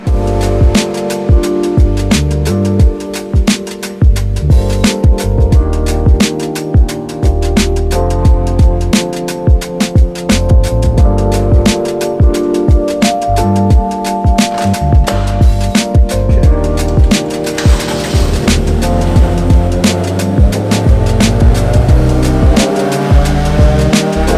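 Honda Civic Type R EP3 engine running on a dyno, its sustained loud roar holding steady and climbing through a long pull with a rough, buzzy tone throughout.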